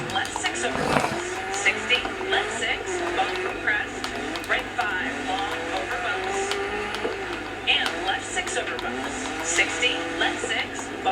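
A rally car races in the Dirt 4 video game, its engine droning steadily with bursts of gravel and skidding noise, while someone talks throughout.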